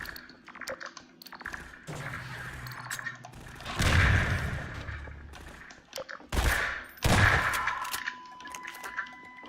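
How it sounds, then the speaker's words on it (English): Shotgun blasts from the video game Half-Life 2, several loud bursts with gaps between them amid in-game clatter and keyboard-like tapping, with no talk over them. "Nothing like a shotgun to the chest in the morning."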